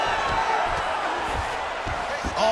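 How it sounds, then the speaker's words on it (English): A video-game arena crowd in EA Sports UFC 5 roars as the fighters get back to their feet after a grappling exchange in Khabib Nurmagomedov vs. Diego Lopes. The roar is loud and steady, with dull low thumps underneath. "big pop from the crowd as they get back to their feet"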